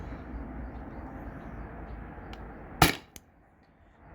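One sharp crack of a CO2 air pistol shot, close and loud, followed by a quick click, over a low steady background hum.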